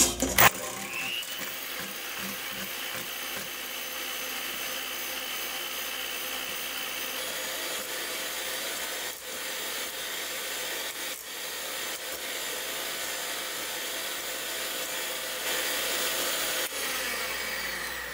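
Fresh cream being whipped with an electric mixer for a strawberry cream cake, a steady loud whirring motor hum that runs continuously with slight rises in pitch and intensity, no voices.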